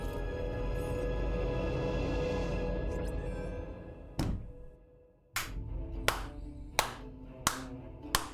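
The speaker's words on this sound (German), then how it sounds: "Da gibt's Applaus" During the finale of the video game Star Wars Jedi Fallen Order, a low steady hum fades out, then a handful of sharp, separate hand claps ring out about a second apart, sounding like slow, sparse applause.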